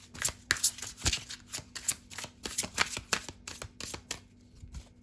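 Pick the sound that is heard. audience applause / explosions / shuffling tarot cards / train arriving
shuffling tarot cards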